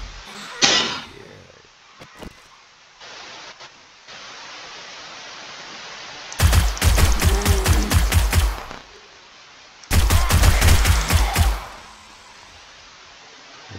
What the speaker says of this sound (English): Let's shoot a shotgun into it.